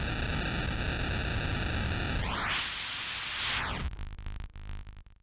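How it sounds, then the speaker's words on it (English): A Vinicius Electrik Lizard synth module runs as a digital noise source: buzzing tonal noise sweeps up into a hiss, then drops. It breaks into stuttering, glitchy digital fragments that fade out. "Type 4 reads through randomly and essentially turns your lizard into a digital noise source."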